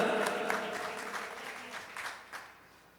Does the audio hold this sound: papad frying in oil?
no